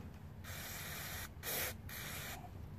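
Carburetor cleaner sprayed onto the carburetor of a Honda GCV160 self-propelled lawn mower, in three sustained hissing bursts, close and fairly loud, broken by short pauses.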